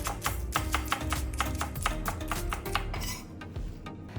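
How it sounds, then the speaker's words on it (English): A knife slicing a green onion on a cutting board, a quick run of close, rhythmic chopping taps, evenly spaced and crisp, slowing near the end. "Slice 1 green onion."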